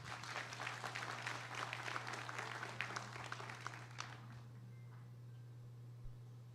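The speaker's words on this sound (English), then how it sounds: "A round of applause." Applause from an audience at the launch of a hospital lung transplant program, a scattered patter of clapping over a low hum that fades out after a few seconds.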